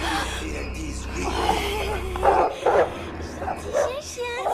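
A small dog yips and whimpers in short, high bursts, mixed in with music and other background sound.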